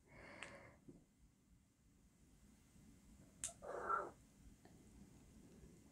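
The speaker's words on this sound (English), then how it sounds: "If you heard that, that's my cat." A pet cat meows once, faint and a short way off, in an otherwise quiet indoor room, with a brief soft sound earlier.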